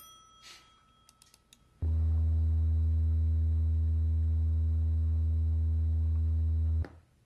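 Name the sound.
80 hertz test tone representing wind turbine noise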